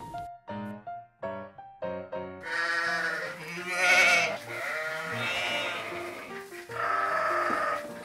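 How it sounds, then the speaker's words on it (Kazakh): Sheep bleat in a series of short wavering calls, starting sparse and spaced, then several animals overlap into a louder, continuous chorus of quavering baas close by. "Әрине, қой."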